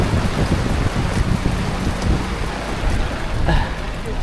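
Heavy rain pours onto a boat on a fishing trip, a loud, close, unbroken drumming with gusts of wind and a low rumble.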